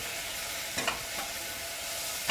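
Pears stirred in a couple of tablespoons of butter in a pan give off a steady close sizzle, broken by a few distinct scraping strokes of the spoon.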